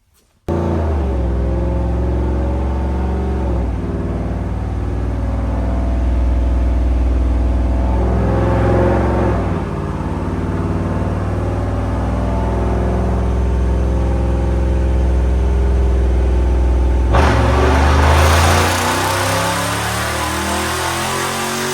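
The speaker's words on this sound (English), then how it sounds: "I'll go get the car started, get it going." A Dodge Charger runs a dyno pull, its engine droning loud and steady with rising revs and a sharp surge of power near the end, close and continuous without talk.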